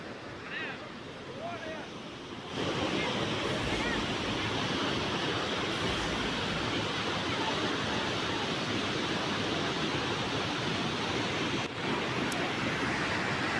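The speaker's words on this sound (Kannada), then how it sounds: "4-5 ದಿನದ ಮಳೆ ಅಬ್ಬರಕ್ಕೆ ಜಲಪಾತ ಈ ರೀತಿಯಾಗಿ ಧುಮ್ಮಿಕ್ತಾ ಇದೆ" Kallathgiri waterfall at the foot of Kemmannugundi in Tarikere taluk, swollen after four to five days of heavy rain, pours with a dense, steady roar that swells louder after a quieter start and then holds without pause.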